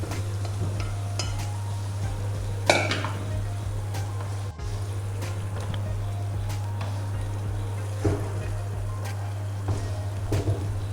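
Mutton keema being mixed and fried in a kadai, with a low steady hiss, occasional scraping stirs and a few louder clanks of a spoon against the pan.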